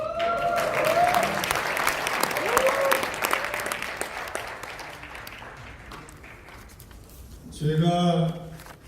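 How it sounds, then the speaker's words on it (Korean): An audience at a Korea–US freedom friendship night event claps and cheers in a loud, continuous wash of noise, with a speaker's voice over it. The noise fades gradually before a short, louder burst near the end. "제가 얘기할 때는 마음껏 환호를 지르셔도 좋습니다."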